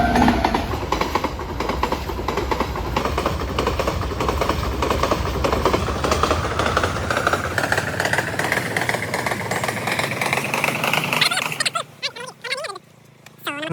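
A train passes close by with a loud, continuous rumble and rhythmic clatter, a rising tone building before it cuts off abruptly near the end, leaving quieter background sounds.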